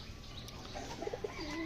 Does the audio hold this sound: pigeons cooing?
yes